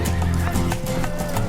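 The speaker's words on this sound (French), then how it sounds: "On va commencer par séparer les juments des étalons." Horses whinny and neigh loudly and close by in an enclosure as mares are separated from stallions, with repeated calls and some faint hoof movement throughout, no talking.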